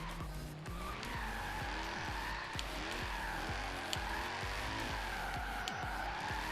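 Tires skid and squeal continuously as a car drifts in the racing game Forza Horizon 3, with the engine revving and pitch wavering as throttle is feathered, loud and steady throughout.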